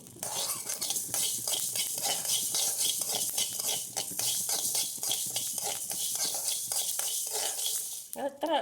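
Fenugreek seeds roasting in a hot pan for nellikka pickle, stirred steadily with a utensil that scrapes and clinks against the metal over a faint dry sizzle, close and continuous throughout.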